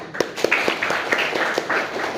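Classroom clapping from students praising an answer, a short run of distinct claps in a fairly regular rhythm, close and moderately loud, with light room noise between them.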